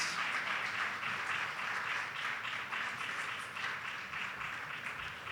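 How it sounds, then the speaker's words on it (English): Steady applause from a conference audience at an agriculture panel session as a panelist walks to the stage, even and sustained throughout without any speech. "Please make a round of applause as he makes his way to the stage."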